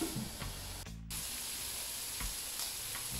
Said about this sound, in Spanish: ¿Veis cómo la cebolla ya se nos va dorando?